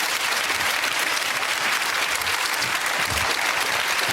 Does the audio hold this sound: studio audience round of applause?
yes